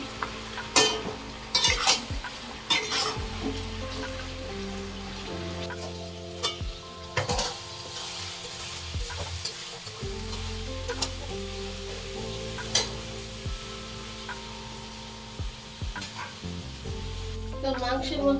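Meat for biryani sizzles and fries in a pot as it is sautéed and stirred, a steady crackle broken by repeated scraping and clanking strokes of the spoon, close and moderately loud.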